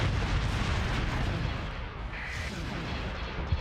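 Missile explosions in the space combat game Starsector, a dense, continuous roar of blasts and rumbling impacts with one sharp pop near the end.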